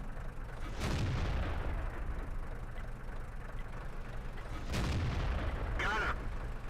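Tank destroyer cannon in World of Tanks firing two heavy booms a few seconds apart over a steady engine rumble, with a short mechanical rattle after the second shot.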